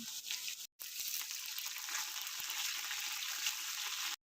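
Mustard seeds, cumin and garlic fry in hot oil for rasam, giving a steady, dense sizzle with faint crackles that runs without pause apart from one short break near the start, with no voices over it.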